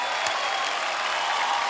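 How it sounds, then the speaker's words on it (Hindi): A television studio audience on a comedy show claps loudly for women athletes, a dense, steady burst of applause filling the whole moment. "एक बार जोरदार तालियां हो जाए हमारे सभी खिलाड़ियों के लिए"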